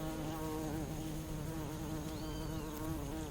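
Steady, droning buzz of bees close by pollinating pickle plant flowers in a garden, continuous and fairly dense, with the pitch wavering slightly as insects move around.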